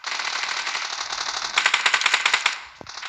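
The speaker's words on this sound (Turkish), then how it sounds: "Şuradan mermi sesleri geliyor" Rapid automatic gunfire from a first-person shooter game, a dense rattling burst of shots that grows louder in the middle and stops abruptly, with no talk.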